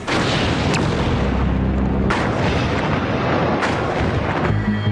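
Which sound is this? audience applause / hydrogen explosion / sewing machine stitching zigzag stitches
hydrogen explosion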